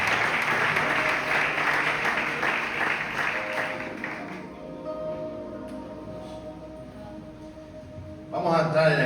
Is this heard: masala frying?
no